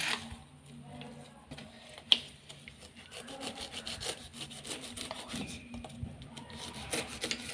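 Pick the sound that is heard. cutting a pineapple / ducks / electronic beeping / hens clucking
cutting a pineapple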